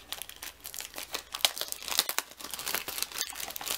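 Stationery packaging for a small caddy is torn and crinkled open, with crisp irregular plastic rips and crackles at close range and no talk.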